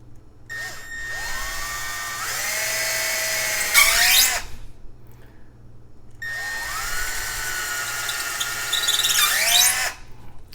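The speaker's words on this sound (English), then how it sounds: "we're going to pre-drill. So I've just taken a bit that is slightly smaller than the screw itself" A power drill bores pilot holes into a wooden IKEA Maximera utensil drawer in two separate runs, each a steady whine that rises in pitch and squeals as the bit bites through, then cuts off abruptly.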